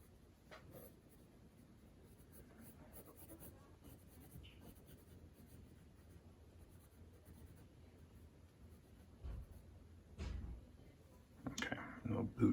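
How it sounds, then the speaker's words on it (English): A pen scratches across paper while a caricature is sketched, faint strokes and scribbles running under a quiet voice, with a few louder taps and scrapes toward the end. "I have to draw this seam coming down"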